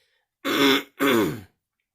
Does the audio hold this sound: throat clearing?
yes